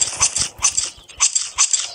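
Zombie dog enemy in the mobile game Zombie Age 3, giving repeated snarling growls in four rhythmic bursts, loud and close with no talk over them.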